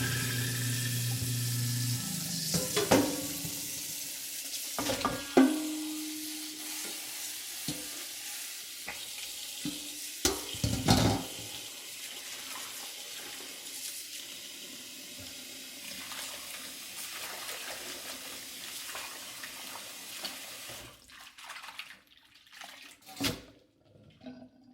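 Salted cabbage for kimchi is rinsed and swished in a basin of water, giving continuous sloshing and splashing with occasional louder sloshes and knocks, close by and without speech.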